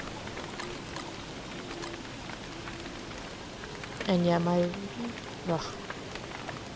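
Steady rain falls in the video game Don't Starve, a constant close hiss of drops running the whole time, with a voice talking briefly over it partway through.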